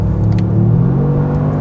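A 2024 Toyota GR Yaris engine pulls hard at full throttle in its sportiest mode, a loud, steady rising drone with deep rumble heard from inside the car, and no talking.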